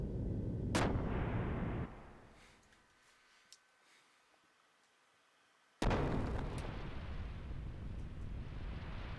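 In the Xenogears video game, a ship's gunner fires, heavy booming artillery blasts with a loud burst at the start, a quiet lull, then another sudden loud blast with rumbling after.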